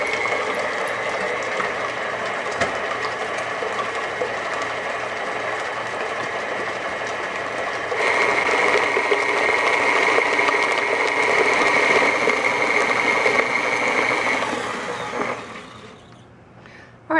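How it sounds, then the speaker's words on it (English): Stand mixer fitted with a paddle attachment whirring as it combines oil, eggs and sugar in the bowl, a steady motor hum that grows louder partway through before winding down to a stop. "add both sugars to the mixing bowl, which I have fitted with the paddle attachment, and we'll just give this a mix to combine it"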